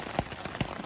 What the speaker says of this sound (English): Started raining early this morning,